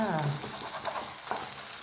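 Salted eggs frying with carrot in a pan, a steady close sizzle with light stirring scrapes and a few crackles, no voices over it.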